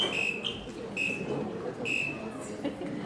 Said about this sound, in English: Can all the participants please test their buzzers?